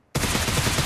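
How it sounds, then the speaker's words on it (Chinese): Loud, dense automatic gunfire in a battle royale video game starts abruptly and roars on as a continuous close burst, with no talking. "哎呦，这回枪打偏了，没打中。"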